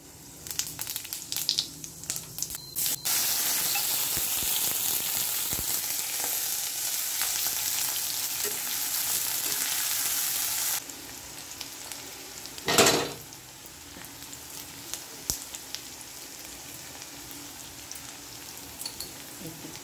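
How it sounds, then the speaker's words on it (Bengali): Cumin seeds crackle and sizzle in hot oil in a wok, a loud steady frying hiss for several seconds that then drops away, followed by a sharp clatter and quieter intermittent sizzling. "এবার আমি ওই কড়াতে তেল দিয়ে একটু এই যে জিরে ফোড়ন দিয়ে দেব।"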